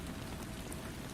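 Steady rain patters against windows in a calm indoor setting, an even, continuous wash of small drops with no voices, faint and unbroken throughout.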